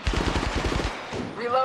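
Rapid automatic gunfire in Apex Legends Mobile rattles off about a dozen sharp shots in under a second, loud and close, then breaks into a brief electronic chime.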